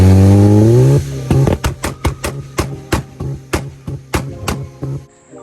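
A turbocharged Mazda Miata's engine revs steadily on two-step launch control, then cuts to a rapid series of loud, sharp exhaust pops and bangs in an uneven rhythm.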